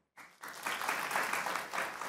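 A TV debate audience breaks into steady clapping that starts suddenly and continues evenly, fairly soft and distant.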